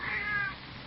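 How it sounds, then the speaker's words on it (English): A single short cat meow, faint and slightly distant, rises and falls quickly within a second, with no voices over it. "What do you mean you heard a cat?"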